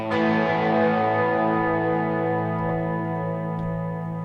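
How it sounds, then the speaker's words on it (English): A clean electric guitar chord rings out and sustains through a Hall of Fame reverb pedal, washed in a long, spacious hall reverb that slowly decays. "So that's the Hall of Fame reverb that you're hearing"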